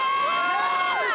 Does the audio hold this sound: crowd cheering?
yes